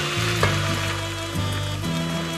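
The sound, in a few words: cabbage frying in a pan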